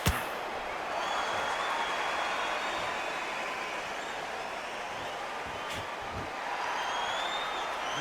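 Boxing arena crowd at the Canelo vs. Crawford fight, a steady broad murmur of many voices filling the hall, continuous and distant-sounding with a few brief thuds and swells.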